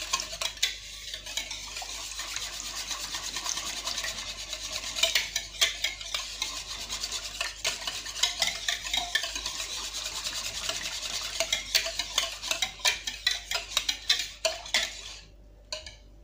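A spoon works dough ingredients around a bowl for a three-recipe single dough, giving a steady run of scraping and rubbing strokes with soft clinks, fairly close and continuous, ending in quiet.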